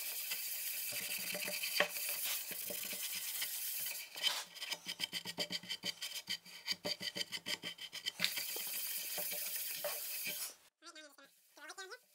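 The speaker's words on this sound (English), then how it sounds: "I like to buff it on with a white Scotch-Brite pad" A white Scotch-Brite pad buffs beeswax into a wooden cutting board, a close, steady scrubbing that turns into quick rhythmic back-and-forth rubbing strokes, then stops into a few brief handling sounds.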